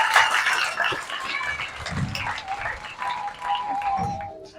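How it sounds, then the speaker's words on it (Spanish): An audience at a school reading event for seventh graders claps in a broad, dense burst of applause, fairly loud and continuous, with some voices mixed in throughout. "Pero fuerte ese aplauso."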